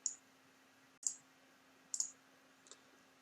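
Three sharp computer mouse right-clicks at roughly one-second intervals, close and crisp, with a fainter fourth click at the end, all over quiet room hum while editing a table in Microsoft Word.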